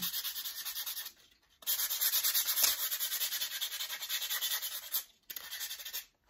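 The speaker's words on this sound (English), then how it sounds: "I'm gonna go ahead and keep sanding this" Sandpaper rubbed steadily back and forth across the back of a cheap Dollar Tree picture frame, a close, continuous hissing scratch with two brief pauses and no talking.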